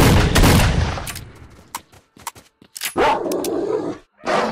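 Albino dogs in S.T.A.L.K.E.R. Shadow of Chernobyl growl and bark amid loud bursts of gunfire, a heavy opening volley followed by scattered sharp shots and yelps close by.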